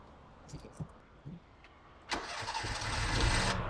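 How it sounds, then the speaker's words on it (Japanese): A car engine cranks and fires after a year and a half in storage, catching abruptly and settling into a loud, steady idle following a few quiet clicks and knocks. "エンジンかけてみます。"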